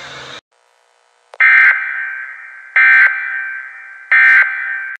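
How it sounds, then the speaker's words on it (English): A NOAA Weather Radio warning device test alert sounds as three loud, steady electronic tones, each lasting over a second and separated by short gaps, after a brief burst of broadcast audio at the start. "this has been a test of the NOAA Weather Radio Warning Device"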